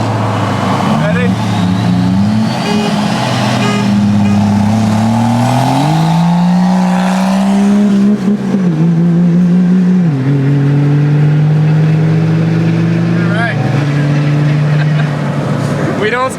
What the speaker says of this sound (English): So let's just go to the dyno, we'll see what happens